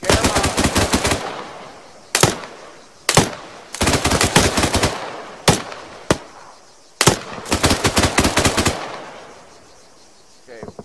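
Bursts of automatic gunfire in the video game ArmA 3, loud rapid volleys and single cracks in irregular clusters with short gaps, fading out near the end.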